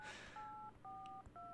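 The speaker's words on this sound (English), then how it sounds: "Is that a phone?" A telephone in the horror video game Resident Evil 7 rings with a quiet, repeating electronic two-tone trill, sounding in short bursts separated by brief gaps.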